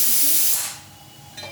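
Kohlrabi fries in a pan with a loud, brief hissing sizzle that fades quickly into a quieter background.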